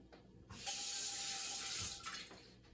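Water gushes and swirls loudly in a saucepan for a second or so, then drains away with a few faint clinks, fairly close and alone.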